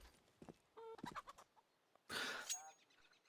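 A chicken clucks in a Counter-Strike match, a string of short clucks and squawks, near and fairly clear, with a louder burst of game noise toward the end.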